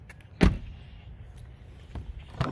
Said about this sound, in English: I'm gonna close both doors.